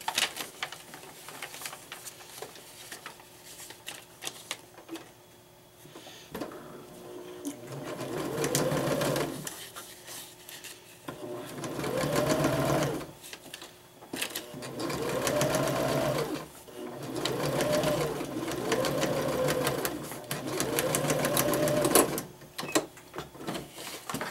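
A sewing machine stitches fabric pieces sewn right sides together from the paper side for foundation paper piecing of a mug pattern, running in several short whirring bursts separated by pauses and soft handling sounds.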